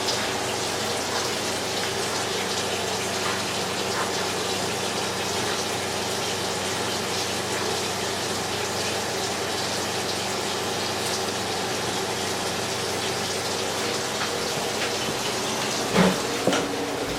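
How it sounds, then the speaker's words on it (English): Steady water gushes continuously, a broad hissing rush with no pauses, like a tap running at full flow, with a brief clunk near the end. "I like to turn my water on first."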